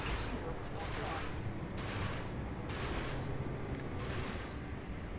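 Spaceship weapons firing in a video game during bounty hunting at a high-intensity resource site, a dense continuous barrage of rapid blasts and crackling bursts with several louder volleys throughout.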